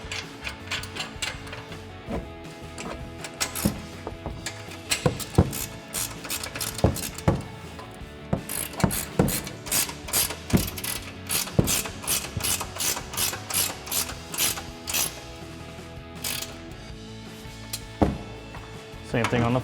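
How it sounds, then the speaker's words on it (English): A 21mm ratcheting wrench tightens the upper control arms on a Ram 1500 during a suspension lift install, giving bursts of quick, close ratchet clicks with short pauses and occasional clunks. "Now we can tighten our upper control arms. We're gonna grab our 21mm ratcheting wrench and just tighten them down."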